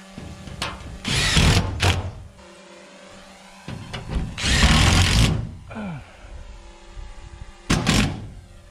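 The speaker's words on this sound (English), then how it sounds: "We can start working our way down and screwing them." Roofing screws are driven into a barn roof with a power driver: several loud whirring bursts of a few seconds each, separated by pauses with light handling clatter, close by.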